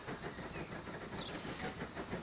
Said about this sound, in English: That train is shooting off at very high speed.